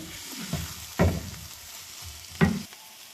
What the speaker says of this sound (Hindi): बस इसको भी हम लोग 1 मिनट के लिए सौटे करते हैं।